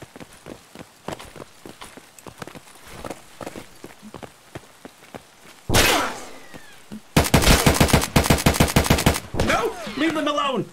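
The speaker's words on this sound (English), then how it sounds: "Cease fire! Hold your fire!" Rapid automatic gunfire and sharp shots ring out during a video game raid, with scattered footsteps early, then dense bursts of firing in the second half as a voice speaks intermittently.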